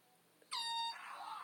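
An air horn blasts once during a prank, a sudden loud bright honk that cuts into quiet and then fades into a noisy tail.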